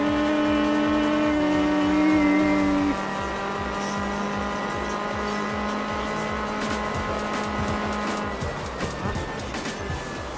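A rally car engine in Gran Turismo 4 drones at high revs on the final lap of an endurance race, with shifting pitch and some tire squeal as grip fades, loud and steady throughout, no talking.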